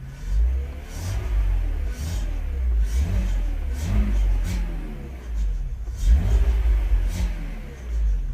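BMW 323i engine with an airflow meter fault, idling in a low rumble and revving in a few rising bursts when the throttle is pressed, heard close up with no talking.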